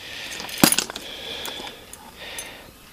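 Loose house keys jangle with one sharp metallic clink followed by a few lighter tinkles, close and fairly clear, with no talking.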